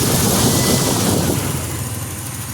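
A car engine idles on its own after a fuel injector cleaning, running slightly rough from excess sprayed fuel, with a steady, close, fairly loud rumble that eases a little toward the end.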